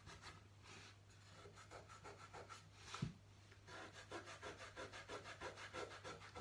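A photocopy is rubbed hard by hand for an image transfer, giving quiet rhythmic scraping strokes that repeat in quick back-and-forth bursts, faint and close with no talking.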